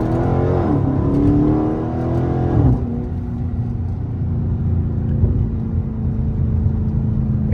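A Chrysler 300S with a K&N cold air intake and straight pipe rumbles loudly up close, its engine note revving and then dropping to a steady, deep drone.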